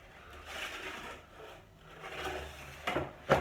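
A wooden dining table top is worked with a sanding sheet, giving repeated rough, scratchy strokes in slow surges, followed by a couple of sharp knocks near the end.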